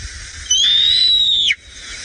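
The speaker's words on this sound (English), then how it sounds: "So that is the sound of a Bateleur eagle." Single recorded call of a Bateleur eagle, a clear high whistle held for about a second that drops sharply at the end, loud against a quiet background.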